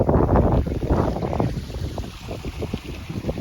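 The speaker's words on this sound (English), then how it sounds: "And as you can hear, it's windy." Strong wind roars and buffets against the microphone in heavy, uneven gusts, loud and close, with no one speaking.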